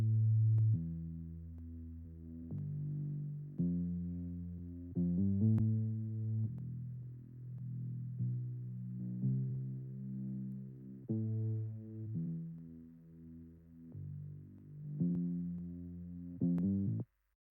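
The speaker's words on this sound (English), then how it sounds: "I'm going to play it before and after so you can hear what this distortion is adding" Electric bass guitar played through a distortion effect in a mix, a sustained line of low notes changing every second or so, with gritty harmonics added and no talking.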